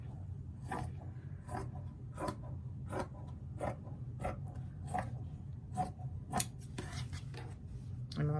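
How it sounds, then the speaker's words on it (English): Scissors cut off the selvage end of a piece of fabric for a handmade gnome: a steady series of about a dozen crisp snips at an even rhythm, close and fairly quiet over a low background hum. "I'm going to cut off this selvage end that I have right here."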